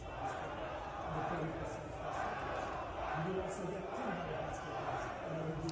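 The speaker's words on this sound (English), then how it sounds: "the crowd got quite rowdy, booing, chanting against this implementation" A large live audience at a game reveal event boos and chants in a steady, rowdy roar. The loud mass of voices has rhythmic swells and never fades across the stretch.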